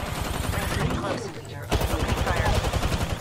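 Rapid automatic gunfire in Apex Legends during a team fight: dense, steady bursts that break off briefly and then resume, close and loud, with a voice speaking faintly underneath.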